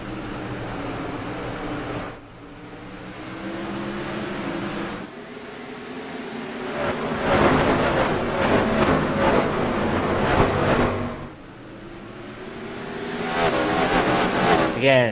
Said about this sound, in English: Green flags in the air. We're underway here in the sprint cars.